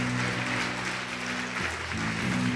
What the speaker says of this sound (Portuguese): Pode aplaudir, glorificá-lo,